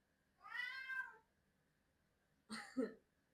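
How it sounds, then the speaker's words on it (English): A house cat lets out two loud, drawn-out meows, the first long and wavering, the second shorter after a pause, close by with no one talking. "my cat is screaming at me"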